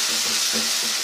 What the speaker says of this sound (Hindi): जब भुनाई हो रही होती है तो आवाज़ का थोड़ा सा मसला हो जाता है